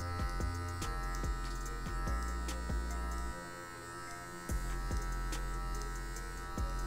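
An electric hair clipper fitted with a number 1 guard buzzes steadily and close while cutting afro hair for a fade, its hum dipping and rising as it moves over the head.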